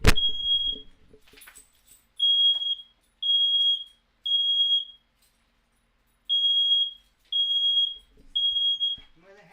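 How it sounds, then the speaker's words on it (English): A household smoke detector sounds a series of loud, piercing beeps in an irregular pattern of repeated bursts with silent gaps, close by, with brief speech at the start. "I've got a smoke detector going off for some reason"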